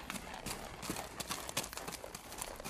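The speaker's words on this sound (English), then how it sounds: "placed a saddle on my horse, and started as fast as possible down the trail taken by Powell" Horse hooves gallop at speed along a trail at night in an audio drama, a dense, rapid clatter of hoofbeats with steady rhythm, moderately close and continuous.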